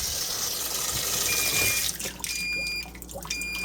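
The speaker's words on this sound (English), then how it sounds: "you will not be able to add clothes while the water's running" Water runs steadily into a Haier HLP23E portable washing machine, a loud, continuous rushing fill that drops in level partway through, with a few faint electronic beeps near the end.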